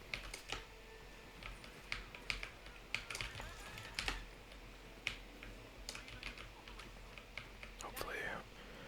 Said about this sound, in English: Hopefully you guys are getting some nice keyboard and mouse sounds as well from the mechanical switches.